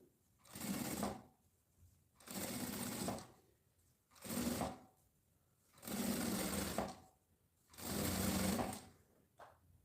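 A sewing machine stitches a women's backpack in five loud bursts of rapid stitching, each a second or two long, separated by short quiet pauses.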